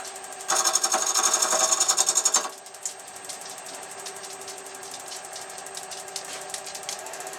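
A wood lathe spins a rough faceplate blank of pallet wood as the tool knocks off its corners, giving a loud chattering burst of about two seconds followed by a quieter motor hum with faint ticking.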